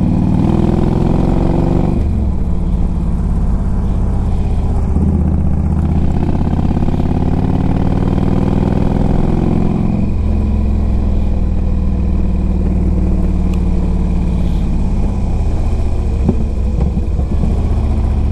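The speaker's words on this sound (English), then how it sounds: "this bike runs really good." A 2005 Harley-Davidson Road King Classic motorcycle engine runs steadily and loudly up close, its deep rumbling idle shifting pitch a few times as the throttle is blipped, with no talking.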